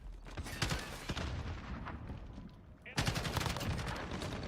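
Sniper gunfire in a Modern Warfare match on the Shipment map, with loud cracking shots bursting in a cluster early on, easing off, then a denser run of rapid reports returning in the second half.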